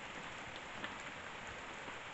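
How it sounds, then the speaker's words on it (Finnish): Heavy rain falling steadily, a dense continuous hiss and patter of drops on surfaces, even and unbroken throughout. "Kova sade yllätti."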